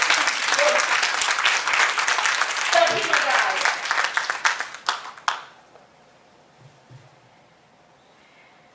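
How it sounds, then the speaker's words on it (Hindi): An audience at a Hindi cultural programme breaks into loud, sustained applause that tapers into scattered claps and ends abruptly after about five seconds, leaving near silence; a voice speaks briefly under the clapping. "तो जी भर के तालियां बजाइए, जी भर के,"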